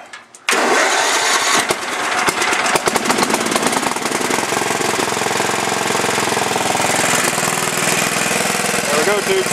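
A Murray lawn mower engine fitted with a new replacement carburetor, model 640078A, fires up and settles into a loud, steady running drone that holds throughout, with a faint voice underneath.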